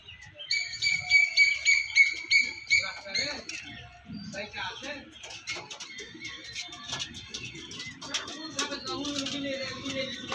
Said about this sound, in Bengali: সুন্দর পায়রা পেয়ারটা দেখুন